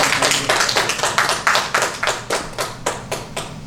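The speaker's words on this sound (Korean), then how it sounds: "그럼 박수 한번 해야 되지 않습니까?" A church lecture audience claps in unison, a rhythmic series of about a dozen sharp, evenly spaced group claps, close and fairly loud, slowly fading toward the end.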